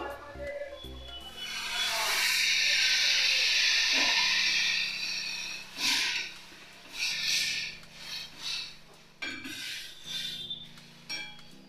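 Water poured into a hot pan of sour dal sets off a broad, hissing sizzle that swells quickly, holds for a few seconds, then breaks into uneven bubbling bursts and fades, with a low steady hum underneath.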